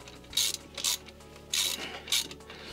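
Ratchet wrench snugging up a brake caliper bolt on a Renault Clio 3 during a disc and pad change, heard as four short bursts of close metallic clicking with brief pauses between them.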